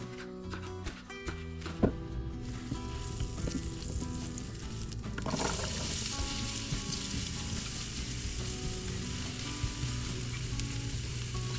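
Onions sizzle and fry in a pan while cooking until glazed, a steady crackling hiss that swells louder partway through, with occasional stirring clatter and no voices.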